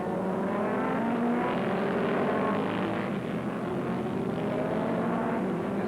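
Superbike motorcycles racing at Oran Park circuit in 1982, a steady, dense engine roar with overlapping high revving from several bikes at a distance, continuous throughout with no talking.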